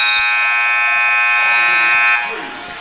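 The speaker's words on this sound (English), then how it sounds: "And as the buzzer sounds," An end-of-quarter buzzer blares at a high school basketball game between Camden Catholic and Camden High, one loud sustained electronic tone that cuts off after about two seconds over faint crowd noise.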